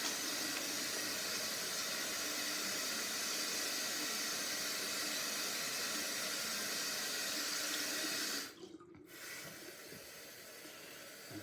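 Tap water runs steadily over a shaving brush handle during a wet shave, a continuous broadband hiss that cuts off abruptly near the end and then resumes more quietly.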